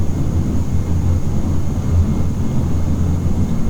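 Dash 8 Q400 turboprop airliner turning while taxiing, a steady deep engine rumble and hum at idle power that holds constant and close throughout, with no voices.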